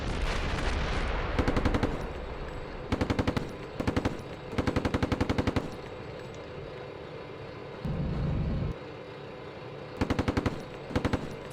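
Rapid automatic gunfire rattles in repeated bursts during a military video game battle, with loud staccato volleys separated by short pauses and a brief low rumble of other action between them.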